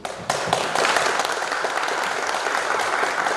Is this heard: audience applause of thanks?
yes